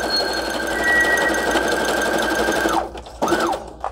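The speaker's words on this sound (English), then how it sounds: "I was sewing" A sewing machine runs a zigzag stitch on a craft storage book project, a steady close whirring hum that stops near the end, then briefly restarts.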